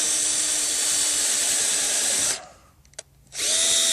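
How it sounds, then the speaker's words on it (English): A power drill whines loudly and steadily while drilling through clamped wood for a rabbit hutch, stops briefly with a small knock, then starts up again. "and you just hook it up, and you just drill it"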